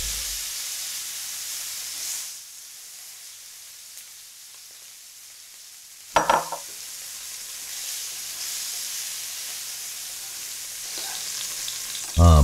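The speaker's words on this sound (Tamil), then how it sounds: "ஃப்ரை பேனில் நல்லெண்ணெயை ஊற்றி அது சூடான உடனே சிக்கனை போட்டு பாதி அளவு வேக வச்சு எடுத்துடணுங்க." Chicken sizzles in hot sesame oil in a frying pan for a Tamil roasted chicken curry. The sizzle is loud and continuous, dips quieter for a few seconds, then flares up sharply again.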